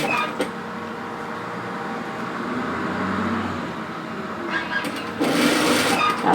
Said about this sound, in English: I'm going to stitch that hem into place